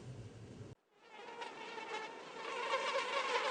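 Mosquitoes buzz close by with a thin, high, continuous whine. The sound cuts out briefly near the start and then gradually grows louder, with no talking.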